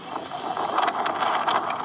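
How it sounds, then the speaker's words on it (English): Strong wind, gusting over 100 miles per hour, roars and buffets steadily across the microphone beside a highway near Boulder, Colorado, surging in gusts with a rough, rushing texture and no voices. "Winds whipping across this highway near Boulder, Colorado"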